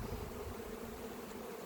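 Honeybees at an opened beehive, a soft, low, steady buzz of many bees droning together.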